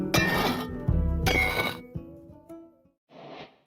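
Two bright metallic clinks with ringing, glassy overtones, followed by a softer chime and a short fizzing burst, all close and clear with no talk; a block activating in Minecraft 1.21.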